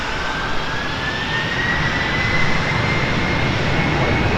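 A heavy Boeing 767 jet departing runway 28 left at Portland airport, a loud continuous engine roar with a rising whine, steady throughout.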